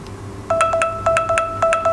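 Alarm tone from a Fossil Gen 5 Carlyle smartwatch: a short series of bright electronic beeps in a quick repeating pattern, starting after a brief quiet moment and played alone with no talking.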